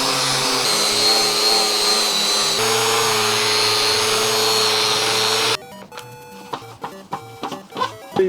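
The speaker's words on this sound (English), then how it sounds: "Why not to use stone polishing pads on steel?" An electric polisher fitted with stone polishing pads runs on steel in a steady loud whine with a faint tonal squeal, then stops and gives way to clanks and handling noises.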